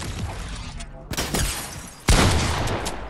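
Heavy shotgun blasts in a video game, with loud broadband bursts of gunfire around one and two seconds amid continuous battle noise and faint background voices.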